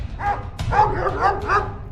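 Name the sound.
dogs barking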